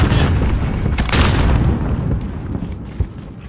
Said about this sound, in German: Werfe Granaten!